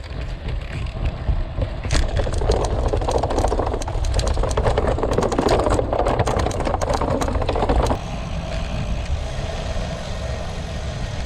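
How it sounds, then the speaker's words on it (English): Bicycle tyres, Gravelking Slicks, rolling over a patch of gravel on a Dorset countryside ride, a steady loud crunching rattle with wind rush that eases off partway through. "a bit of gravel on the Gravelking Slicks"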